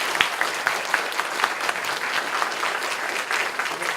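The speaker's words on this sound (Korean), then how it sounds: "박수 한번 쳐야 되는 거 아니에요?" An audience at a university lecture at Kyungpook National University breaks into dense, steady applause, many hands clapping close together at an even level throughout.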